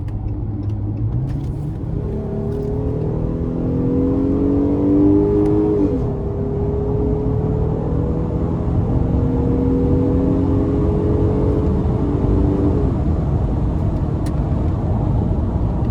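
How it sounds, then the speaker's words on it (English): A 2020 Ram 1500 Big Horn pickup with 40K miles accelerating hard toward redline, its engine droning loudly and climbing in pitch through rising gears, heard steadily from inside the cab with no talk. "this thing is going relatively slow as I'm borderline redlining the engine"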